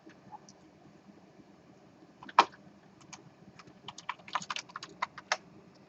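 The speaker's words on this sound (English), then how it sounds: "This is actually worth us typing in some code." Code typed on a computer keyboard during a programming lecture: scattered key clicks early, then a faster, denser burst of keystrokes near the end, moderately close and alone without talk.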